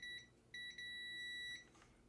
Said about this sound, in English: And down here it should still beep.